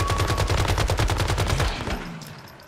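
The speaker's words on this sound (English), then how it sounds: "I decided to use that sniper." Gunfire in the video game Once Human, attributed to a sniper rifle: a rapid, evenly spaced run of loud, close shots lasting about two seconds, then trailing off into a fading tail.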